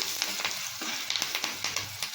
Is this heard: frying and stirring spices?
yes